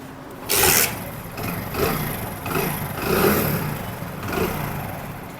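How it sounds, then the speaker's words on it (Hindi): A Honda Pridor motorcycle with a freshly serviced carburettor starts up, a brief loud burst followed by an uneven idle with periodic swells in engine note, nearby and alone. "उसके लिए हम बाइक को स्टार्ट कर लेते हैं।"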